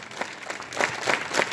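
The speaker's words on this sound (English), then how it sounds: "Clap together." A class of children claps their hands together in a few loose bursts of applause, close and moderately loud, with no talking.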